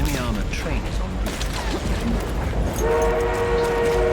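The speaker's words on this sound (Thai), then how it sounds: "มีรถไฟวะ" A train approaches in the Battlefield 1 video game, its rumble building under chaotic battle noise before a loud sustained horn blares over the final second and a half.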